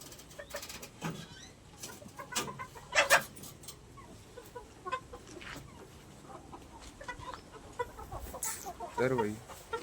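A hen clucks in short, irregular bursts nearby on a rural morning, with other fowl sounds and faint background noise between calls.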